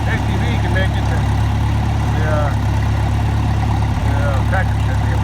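An old tractor pulling a bush hog mower across a bumpy pasture runs with a steady, loud low engine drone, joined by faint squeaks and rattles.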